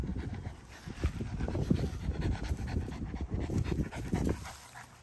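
A French Bulldog pants steadily and rapidly up close, a continuous rhythmic huffing of short breaths that runs for several seconds without any talk.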